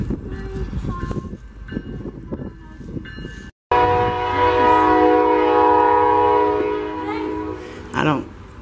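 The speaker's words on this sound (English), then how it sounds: "And we got the train." Passing train sounding its horn, a loud sustained multi-tone blast with a rumbling undercarriage, following some earlier noise and chatter, then tapering as the cars roll by nearby.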